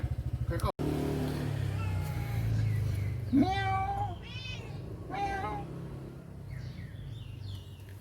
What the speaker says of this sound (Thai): อ้าวคุณเหมียวมากเป็นกำลังใจให้พี่น้อง